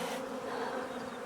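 Honey bees swarm around an opened hive while it is being split, making a dense, continuous buzz that is close and loud throughout, with no voices.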